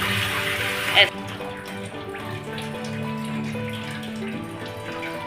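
Running water rinsing burnt, roasted eggplant, a bright splashing stream for about a second that then drops to softer trickling and dripping while a voice talks over it.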